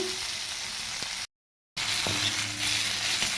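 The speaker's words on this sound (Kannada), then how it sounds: "ಬೆಂಡೆಕಾಯಿ ಭಾಳ ಬೇಗನೆ ಬೆಂದ್ಬಿಡುತ್ತೆ ಸೊ ಹೀಗೆ ಫ್ರೈ ಮಾಡ್ಕೋಬೇಕು" Okra pieces fry in hot oil in a pan, giving a soft, even sizzle close by that drops out for half a second and then resumes, with a light clink, and no voices.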